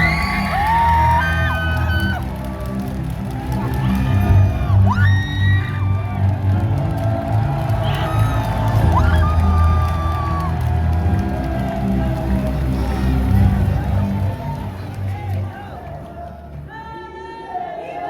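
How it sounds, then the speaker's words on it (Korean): A large crowd at a Gyeongnam political rally cheers and whoops loudly over a rolling wash of noise, with shouts and a booming amplified voice echoing through. "뜨거운 박수로 맞아주십니다"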